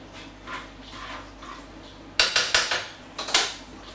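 Metal spoon knocks and scrapes around a pot of chorizo lentil stew as paprika is stirred in, a quiet start giving way to a burst of sharp clinks and scrapes that repeat in close quick succession.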